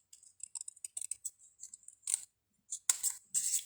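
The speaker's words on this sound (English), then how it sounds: "we're going to snip that off" Scissors snip paper for a handmade card. Quick bursts of crisp little cuts are followed by a few sharper, louder snips, close up, with no talking.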